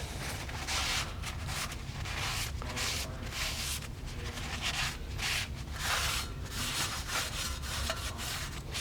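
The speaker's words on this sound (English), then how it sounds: "Wipe it down with a rag." A rag is rubbed over the brake hub of a 2012-2018 MK6 VW GLI, a soft repeated scrubbing swish in quick back-and-forth strokes, close and steady throughout.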